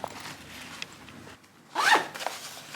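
A school backpack compartment zipper is pulled open in one quick rasping stroke, close and clear over a quiet room hush.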